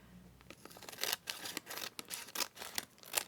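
Scissors trim paper for a travel junk journal, making a quick series of faint, close snips and crisp cuts with short pauses in between.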